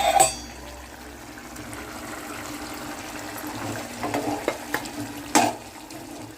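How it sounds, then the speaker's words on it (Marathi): A pot of Malvani wet cashew vegetable curry bubbles at a boil with a soft, continuous simmer, punctuated by a few light clinks and pops. "चांगली उकळी फुटली का झाकण मारून ठेवून देऊ शिजूक"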